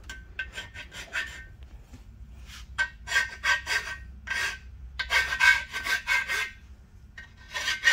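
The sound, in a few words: deburring a Ford 302 engine block by hand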